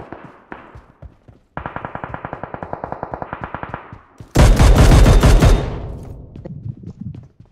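Rapid automatic gunfire in a shooting video game, a steady run of close, loud shots followed by a denser, harsher burst that tails off into a sparse shot or two.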